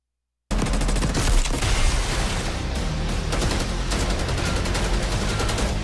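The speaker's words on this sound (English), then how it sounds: "Shooting bad guys in the desert." Sustained rapid gunfire from Call of Duty: Black Ops 6, a loud dense machine-gun burst that starts abruptly after a moment of silence and keeps firing without pause, with occasional heavier thumps mixed in.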